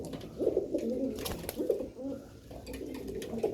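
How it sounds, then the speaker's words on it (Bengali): Three silver pigeons coo in low, rolling bursts, close by and fairly loud, with a steady murmur of background noise between calls. "তিনোটা কবুতরই সুন্দর"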